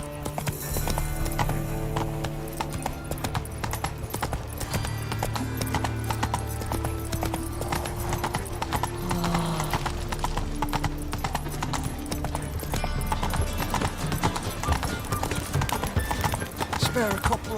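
Roach the horse gallops in The Witcher 3, with rapid rhythmic hoofbeats thudding steadily beneath game music, close and continuous.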